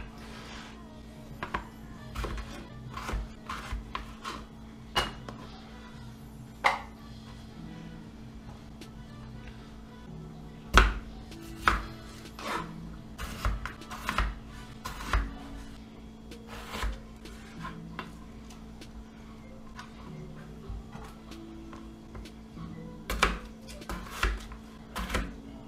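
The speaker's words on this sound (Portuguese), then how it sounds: "Corto ela ao meio e vou cortando assim, ó." A kitchen knife cuts an unpeeled potato, halved and then sliced, on a board: irregular knocks and scrapes, some sharp and close, scattered through a steady low background hum.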